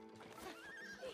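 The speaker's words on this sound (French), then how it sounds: "Oh, un cheval!" A horse in the video game It Takes Two gives a high, wavering whinny lasting about a second, heard clearly over faint game background.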